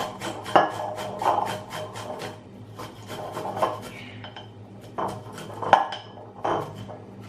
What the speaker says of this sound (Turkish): Şimdi arkadaşlar bir diş sarımsağını aldım. Şöyle rendeliyorum.